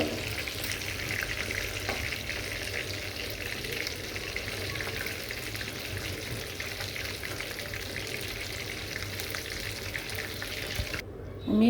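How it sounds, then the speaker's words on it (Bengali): Luchi, a puffed flatbread, frying in hot oil gives a steady, close crackling sizzle that runs nearly unbroken and ends with a brief louder burst of bubbling. "আমি এখন লুচি ভাজবো।"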